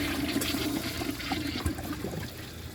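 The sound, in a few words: 1994 Kohler Wellworth Lite toilet flushing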